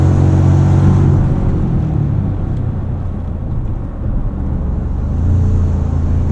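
A 2.4-liter iForce Max engine in a 2024 Toyota Tacoma Trailhunter pulls hard, giving a loud, steady low rumble from inside the cab that eases slightly midway, then swells again.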